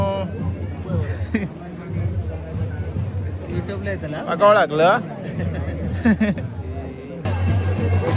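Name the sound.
crowd chatter at village temple festival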